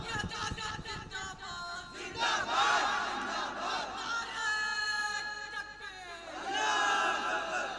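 At a religious gathering and poetry recital, a large crowd shouts Allahu Akbar in unison in response to a chanted call, with loud, sustained massed voices swelling in two waves.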